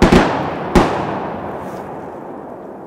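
Shotgun fire during a quail and duck hunt outdoors: two sharp, loud blasts about a second apart, each followed by a long, fading rolling echo.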